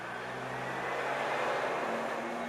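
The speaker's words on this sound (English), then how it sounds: "Sorry about the traffic." Road traffic passes steadily nearby as a car drives by, a continuous broadband rumble that swells slightly toward the middle and stays fairly loud throughout.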